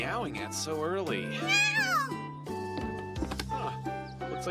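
Repeated meows from a cat named Wanchoy in an English-dubbed anime ring out clearly, rising and falling calls over background music.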